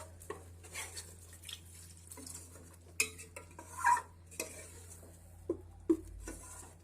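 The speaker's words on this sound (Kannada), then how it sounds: "ಈಗ ಅದಕ್ಕೆ ನೀರು ಎಷ್ಟು ಬೇಕೋ ಅಷ್ಟನ್ನ ಮಿಕ್ಸ್ ಮಾಡ್ಕೋಬೇಕು." A spoon stirs water into fish curry masala in a metal pot, making soft scattered clinks and scrapes with a low hum underneath. Nobody speaks.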